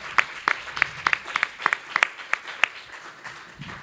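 A small audience claps in a sparse, uneven patter of separate hand claps at a panel discussion, each clap sharp and distinct rather than blended into a roar.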